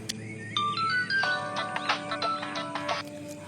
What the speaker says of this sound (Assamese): মই ফোনটো লগাই দিছোঁ